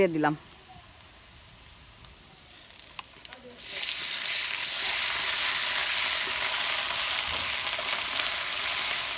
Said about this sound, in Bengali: পেঁয়াজ বাদামি কালার করে বাইজে নিব